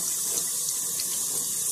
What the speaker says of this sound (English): we're just splitting them and rinsing them